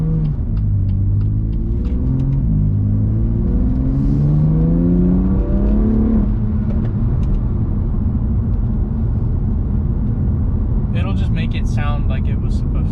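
BMW M2 Competition engine and exhaust revving, a loud, rising drone that climbs in pitch over several seconds, then holds at a steady rumble, with a faint higher whir near the end.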